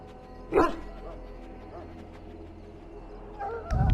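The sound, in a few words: dog barking in Dragon Age: Origins, video game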